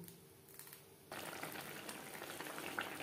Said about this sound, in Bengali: গ্রেভি বেশ ভালো করে ফুটিয়ে নেব।